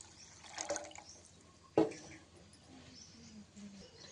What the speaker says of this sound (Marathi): एक तांब्या पाणी घेतलेलं आहे मी, पाणी घालून घ्यायचं इथे.